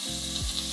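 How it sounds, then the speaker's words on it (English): Steak bites hitting a hot pan, a steady bright sizzle of searing meat over a brief moment, close and alone without voices. "the pan is hot enough, so we're gonna add a steak bite set to"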